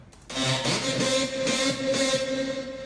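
A bright electronic synth lead holds a buzzy, sustained tone with a slight pulsing wobble, up front and unaccompanied.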